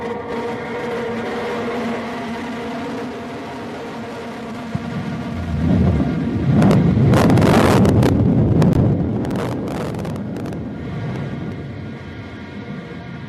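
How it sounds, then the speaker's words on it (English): A Blue Origin New Shepard rocket booster relights its engine on descent toward landing, a rumbling roar that swells over a steady hum and wind noise, then slowly fades. "All right, there's engine relight."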